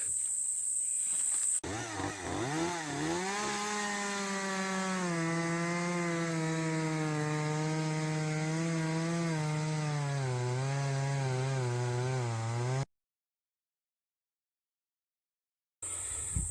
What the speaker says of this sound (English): is a chainsaw day again, but just a baby chainsaw. So this is a battery powered one.